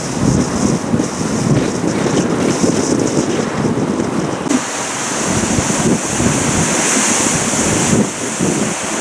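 Ocean waves slap against the base of a cliff along a Taiwan coastal road during Typhoon Megi, a loud continuous roar of surf with heavy wind buffeting the microphone.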